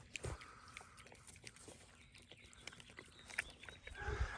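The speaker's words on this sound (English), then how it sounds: "the pigs like their little treat" Pigs munch and chew bread close by, with scattered crunching bites and soft grunts at a low level.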